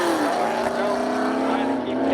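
Drag racing cars at Seekonk Speedway roar continuously at close range, a loud sustained engine drone with rising pitch, while a commentator talks over it.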